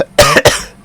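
A person coughs twice in quick succession, loud and close to the microphone, both harsh bursts less than a second long in all.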